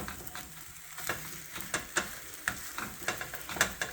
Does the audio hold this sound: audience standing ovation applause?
no